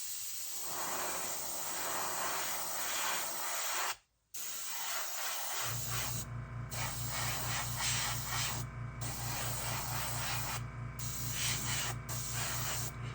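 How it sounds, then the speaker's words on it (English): An airbrush loaded with dark brown paint mists around the bottom of a model horse's hoof, a steady close hiss that breaks briefly with short gaps, then joined by a low, even pulsing hum from the compressor. "I've got my airbrush loaded up with that dark brown color, and what I'm going to do is I'm going to mist around the bottom of the hoof"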